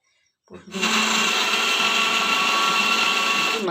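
A kitchen blender whirs up after a brief silence and grinds ginger, green chillies and tomato into a paste, settling into a loud, steady high-pitched whine.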